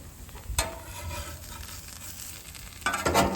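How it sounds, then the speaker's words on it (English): Cheese-topped birria tacos, tortillas dipped in sauce, fry in a pan with a low steady sizzle, broken by a few scraping stirs and handling clatters near the start and end. "So we're gonna let it fry up real nice."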